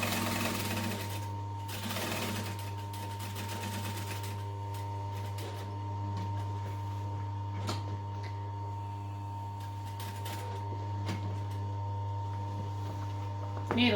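Sewing machine running a long seam on a Dallas Duffel bag with a 2.5 stitch length, a steady close mechanical whirr with stitching rhythm and brief pauses, continuous through the clip.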